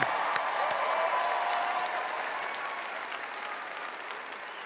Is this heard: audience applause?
yes